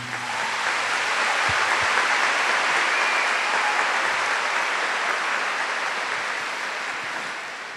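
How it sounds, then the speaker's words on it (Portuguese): A large audience at a Catholic gathering applauds a family, dense sustained clapping like rushing rain that holds steady and fades slightly at the end, with no talk. "Uma salva de palmas para essa família."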